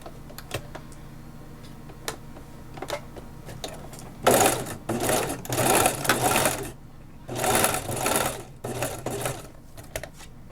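A sewing machine stitches the fabric band for a batwing blouse at a quarter-inch seam allowance, sounding in several fast rattling bursts separated by pauses, after some soft ticking at the start.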